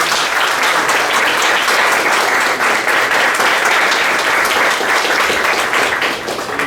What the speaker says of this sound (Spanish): les pido un fuerte aplauso a nuestros compañeros.